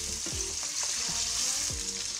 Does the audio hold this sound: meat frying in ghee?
yes